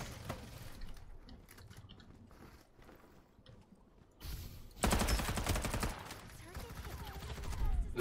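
A submachine gun fires in Farlight 84 as rapid automatic bursts, quieter and scattered at first, then a loud continuous stream of shots that dominates toward the end.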